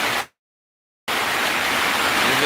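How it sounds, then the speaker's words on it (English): Rain falls outside as a dense, steady hiss, loud and continuous, broken by a sudden silence of nearly a second before the downpour resumes with no voices over it. "It's raining out there."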